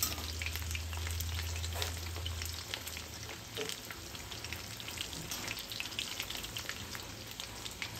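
Peri peri fish fries in hot oil in a pan, a dense, close sizzle with crackles and pops that continues steadily throughout, with a brief low hum early on.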